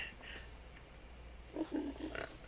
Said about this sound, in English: I got too many pigs, I think.